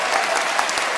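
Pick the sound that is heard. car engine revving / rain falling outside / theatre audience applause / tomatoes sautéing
theatre audience applause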